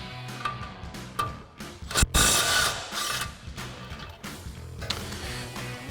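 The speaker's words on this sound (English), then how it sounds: "we'll grab our 21mm socket on our impact and go ahead and run that off" An impact wrench with a 21mm socket runs off an outer tie rod end nut on a Silverado 1500 during a lift kit install, heard as a ratcheting, hammering mechanical rattle with a sharp loud burst near the middle.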